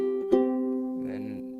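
On a ukulele, strings 2 and 3 are plucked together, a single soft double-note attack that rings out and sustains, with a faint shift in tone near the end, close and alone.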